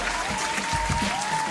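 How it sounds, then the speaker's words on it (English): Recorded studio applause plays as a short, steady burst of clapping and crowd cheering, with a faint tone running underneath. "Hit that applause again, man."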